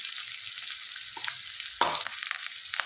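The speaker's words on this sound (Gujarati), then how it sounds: "જીરું વઘારીએ" Cumin seeds, chilies and peanuts hit hot oil for tempering, giving a steady close hiss of frying with a few brief stirring clinks and a louder burst of sizzle midway.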